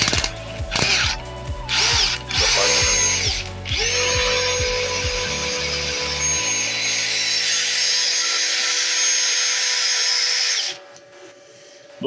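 A repaired Parkside PDSSAP 20-Li D3 cordless impact driver whirs close and loud in a string of short trigger bursts, then holds one sustained high-pitched run of several seconds before cutting off.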